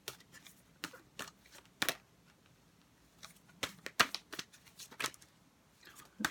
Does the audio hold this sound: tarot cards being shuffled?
yes